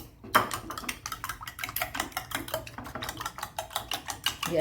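A utensil clicks and taps rapidly against a bowl, quickly beating an egg mixture in a steady rhythm, close up.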